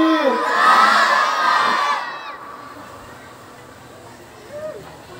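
A large crowd shouts the takbir chant, Allahu Akbar, in one loud, full roar at a religious gathering. The roar dies away into quieter murmurs.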